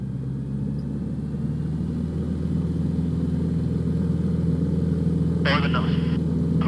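A Cessna light aircraft engine drones steadily and loudly on the runway at takeoff, a constant low rumble under voices speaking over it.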